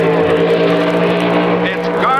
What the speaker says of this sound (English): Powered AA dragster against Ron Abbott in Hellzapoppin